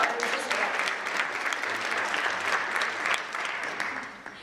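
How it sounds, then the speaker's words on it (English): An audience at a Distinguished Young Women program in Brookfield-Elm Grove gives sustained, even applause that tapers slightly toward the end, with no speech over it. "Another round of applause."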